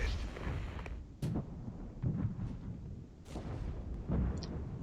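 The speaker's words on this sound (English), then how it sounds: "Utilizing the area recon ability combined with the heavy artillery." Deep rumbling blasts of heavy artillery fire in the Regiments wargame during a night assault, several booming impacts spaced a second or two apart over a continuous low battlefield roar.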